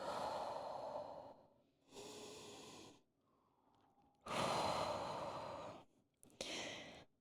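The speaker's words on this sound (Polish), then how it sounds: "2 duże oddechy tutaj." Deep, slow breaths during a yoga exercise: long audible inhales and exhales, close and loud, in a steady rhythm of about three full breath cycles with short pauses between, no talking.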